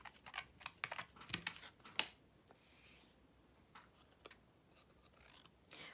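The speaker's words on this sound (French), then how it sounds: "il va me rester qu'à le découper à la main" Paper shape cut out by hand with scissors for a papercraft project, a close, quiet run of crisp snipping and rustling, irregular bursts with a pause midway.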